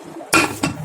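Two sharp metallic clanks ring out close by as a pressure cooker lid is pressed and locked into place.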